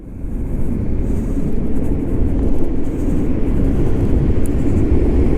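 A $3,800 Chinese electric scooter ridden at full throttle, a steady loud rush of wind buffeting and low road rumble throughout with no one speaking.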